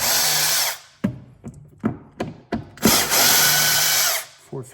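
A power screwdriver backs Phillips screws out of a Markbass bass combo amp, with two long whirring bursts separated by a series of short clicks and knocks from handling the screws and cabinet, all close up.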